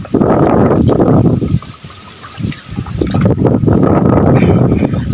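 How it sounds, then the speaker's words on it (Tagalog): Heavy wind buffeting the microphone in loud low rumbling gusts, briefly easing in the middle before roaring back, with water sounds faintly beneath. "ang lakas ng hangin"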